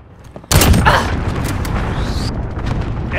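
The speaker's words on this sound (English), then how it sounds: "Enemy cruise missile." A sudden loud blast from a cruise missile strike in Call of Duty erupts, followed by a sustained roaring, crackling rumble of explosions and debris, with a rising whistling tone near the end.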